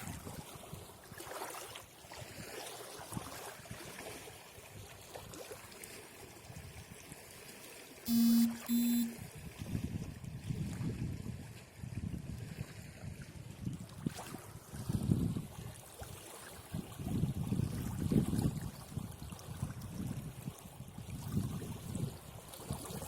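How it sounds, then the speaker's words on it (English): Rough water churns and rushes in a steady low wash for over twenty seconds, swelling in several louder surges, with a short electronic double beep partway through. "this water's pretty rough right now"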